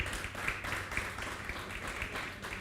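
Faint, distant applause from a church audience welcoming a guest to the stage, a soft continuous patter of clapping at low level with a murmur of voices.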